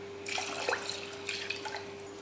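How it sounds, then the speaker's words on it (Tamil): Water poured into a pot of rice for tomato rice, a soft close splashing and trickling in two short bursts over a steady low hum. "இப்போ தண்ணி சேர்த்துடலாம்"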